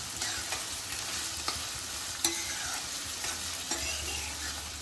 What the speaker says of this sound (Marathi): आता हिरवी मिरची घालायची आहे चांगलं शिजवून घेते मी कांदा